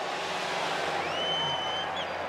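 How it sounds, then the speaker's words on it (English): Crowd cheering at a Formula Drift top-32 battle, a steady broad roar of a distant audience filling the whole stretch, with a faint rising whine of drift car engines passing through the middle. "Yeah, the crowd is awesome."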